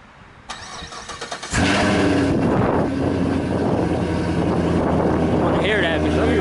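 A car engine cranks in a few quick, stuttering pulses, then catches and settles into a loud, steady running rumble close by.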